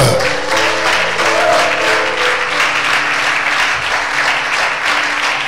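A church congregation applauds steadily and loudly throughout, a dense wash of many hands clapping with no break.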